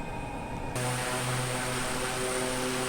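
A propeller turboprop engine of an Embraer EMB-312 Tucano in Microsoft Flight Simulator 2020 rises abruptly from a quieter hum into a steady, loud drone with tonal whine, continuing evenly without talk.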